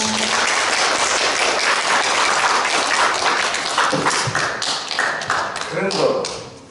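Applause and tapping from an audience at a children's council plenary session in Changwon, dense and continuous with speech mixed in, thinning toward the end.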